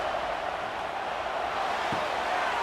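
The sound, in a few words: stadium crowd noise in College Football 26 video game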